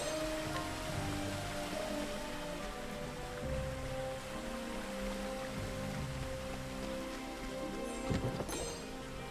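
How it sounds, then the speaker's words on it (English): A waterfall in the video game Octopath Traveler gives a steady, soft rushing water wash that continues evenly throughout, with a brief clatter near the end. "Oh, look at how pretty that waterfall looks."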